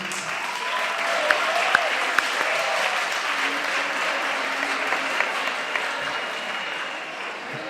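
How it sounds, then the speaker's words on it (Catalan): Steady applause from a large crowd at a school concert fills the space, a dense wash of clapping that holds at an even level throughout. "un fort aplaudiment per al cor que teniu així"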